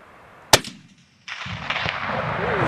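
A single loud rifle shot fired at a mountain goat cracks out during a Southeast Alaska hunt. A brief hush follows, then steady outdoor rushing noise.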